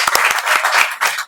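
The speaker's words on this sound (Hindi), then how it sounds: "चलिए इनको लिए एक बार ताली आप लोग जरूर बजाइएगा।" A classroom audience claps briefly, sounding as a short burst of sharp, uneven hand claps from a small group, close and fairly loud.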